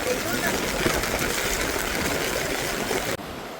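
Sea waves wash steadily along a beach at evening, a continuous broad rushing surge that cuts off abruptly near the end.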